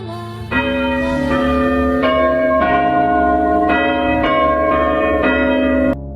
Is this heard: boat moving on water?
no